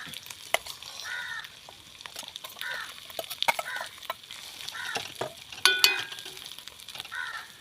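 Dried prawn powder fries in hot sesame oil with a steady sizzle, interrupted by repeated scraping stirs, while crows caw intermittently in the background.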